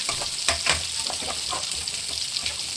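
Masala sizzles and fries steadily in a hot pan during village cooking of fish curry, with soft stirring scrapes through the hiss, loud and close throughout.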